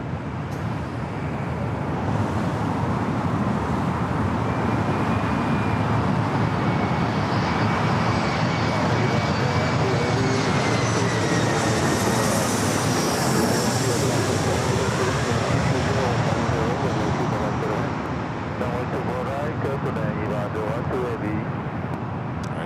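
A Boeing 777-300ER in Eva Air's Star Alliance livery arriving at Los Angeles International Airport, a loud, steady broadband jet roar that swells and holds for the whole stretch, with a faint whining tone gliding through it.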